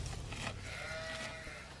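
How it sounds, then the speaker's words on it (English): A sheep in the Farming Simulator 15 game gives a single drawn-out bleat, faint and slightly distant over a low background hum. "Here's our sheep."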